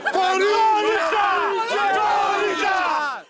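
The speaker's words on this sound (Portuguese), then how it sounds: "mais de 25 mil torcedores vieram à arena confiantes na recuperação do time" A crowd of more than 25,000 Corinthians football fans roars and chants together inside the Itaquera arena during a match, a loud, sustained wall of massed voices that holds steady for the whole stretch.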